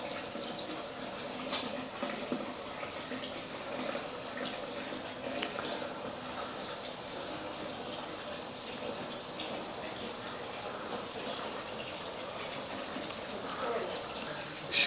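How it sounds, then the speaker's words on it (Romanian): Natural spring water flows steadily at a mineral spring near Băile Tușnad and Lake Sfânta Ana, a continuous broadband rush and trickle heard close up throughout, with no voices over it. "Cam așa arată izvorul."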